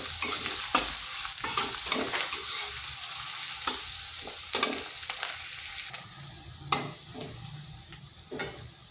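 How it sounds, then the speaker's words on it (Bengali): Chopped onion lightly fries in hot oil, giving a steady sizzle punctuated by sharp scraping stirs of a spatula in the pan, close and without talk. "পেঁয়াজটাকে হালকা ভেজে নেব।"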